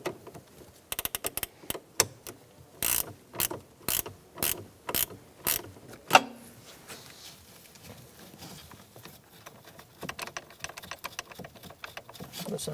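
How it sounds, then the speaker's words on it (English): Ratchet wrench loosening the terminal nut on a 2005-2010 Chrysler 300 car battery: bursts of close, sharp clicking in irregular rhythm, with a single metallic clank midway and quieter clicking toward the end. "I'm using a ratchet wrench."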